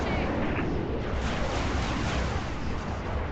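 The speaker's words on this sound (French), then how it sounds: "Ah, ça tire de partout," Dense video-game gunfire and explosions from Halo: The Master Chief Collection, a continuous loud barrage of shots and booms.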